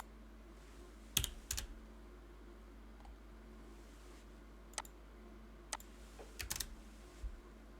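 Quiet bursts of typing on a computer keyboard, short clusters of clicks separated by pauses, close but soft over a low background hum.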